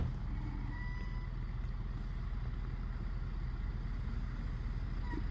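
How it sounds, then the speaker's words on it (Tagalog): A truck braking and sliding down a snow-covered slope gives off a steady, low, continuous rumble that holds at an even level throughout, with no clear separate impacts. "The truck keeps sliding down."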